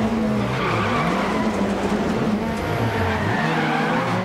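An MG 6R4 rally car in DiRT Rally 2.0 revs hard through rising and falling gears as it accelerates, loud and close, with tyres scrabbling and skidding on a loose stage.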